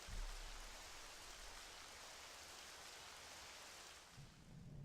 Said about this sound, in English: And suddenly it's raining again.